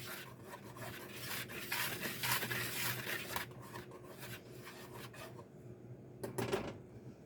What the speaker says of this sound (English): I'm going to whisk this flour, sugar, and salt all together